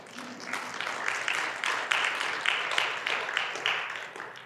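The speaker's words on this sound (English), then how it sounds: "Give yourself a round of applause for that." A congregation applauds during a church lesson: quiet, somewhat distant clapping from many hands, steady and sustained throughout without any voices.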